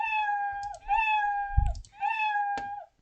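The Scratch cat sprite meow plays when the sprite is clicked, giving three synthetic meows in quick succession. A faint mouse click falls between them, and the sound is clean and up close.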